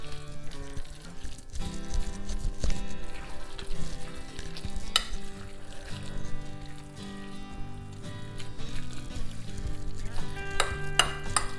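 A couple of garlic cloves sizzle in oil in a pan while being stirred, a soft continuous fry with repeated scrapes and clinks of a utensil against the pan, close and fairly quiet, with no talk.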